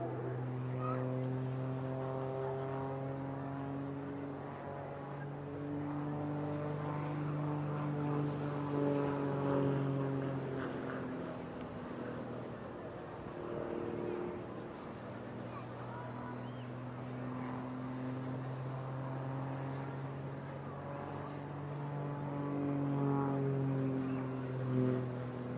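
A Grob Tutor propeller training aircraft flies at the Eastbourne International Airshow, its engine a steady droning hum with rising and falling pitch as it manoeuvres at a distance, under a commentator's voice.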